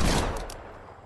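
Flintlock gunshots in a video game: a single loud, close blast at the start with a crackling report that quickly decays into a fading tail.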